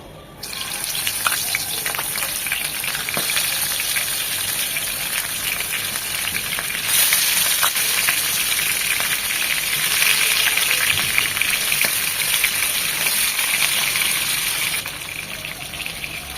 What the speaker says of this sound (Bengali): মাছগুলো ভাজার জন্য প্যানে দিয়ে দিচ্ছি সয়াবিন তেল